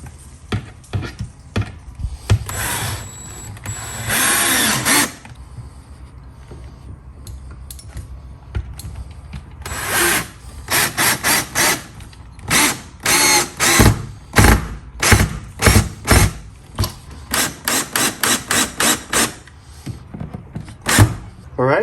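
A power drill mounts a Tesla Wall Connector to a wall indoors. Its bursts are short and close, first a couple of longer runs and then a quick series of brief pulses, with clattering handling noises between them.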